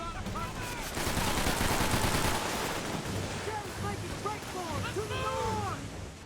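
Gunfire in the Call of Duty video game on PS3, a dense loud burst of shots layered with game effects and voices talking throughout.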